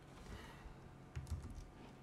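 Computer keyboard typing on a Windows machine: a quiet burst of several close key clicks near the middle, low in level against faint room noise.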